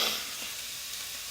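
Apples fry in a pan with a steady, quiet sizzle, a soft even hiss heard alone for a moment.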